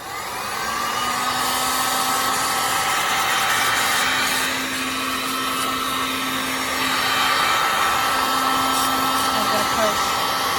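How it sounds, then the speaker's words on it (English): Heat gun blowing over poured resin with gilding flakes and mica powders, a constant whirring fan roar with a steady motor hum throughout, loud and close. "So I'm going to go ahead and turn on the heat gun."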